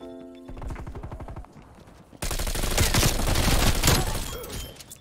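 Gunfire in Call of Duty Cold War: a rapid, evenly spaced burst of shots, a short pause, then a dense, loud sustained volley that fades slightly at the end.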